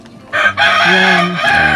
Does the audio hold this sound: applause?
no